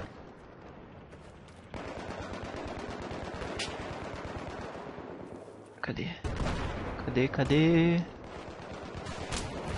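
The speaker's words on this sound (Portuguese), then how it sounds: "E que vocês estão atirando?" Rapid gunfire and explosions from the Battlefield 3 video game in Rush mode, with bursts of automatic fire and sharp impacts building through the clip, while a player speaks briefly near the end.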